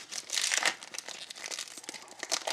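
A Panini Mosaic football trading card pack is torn open up close, its foil wrapper crinkling and crackling in quick, uneven bursts with no voices.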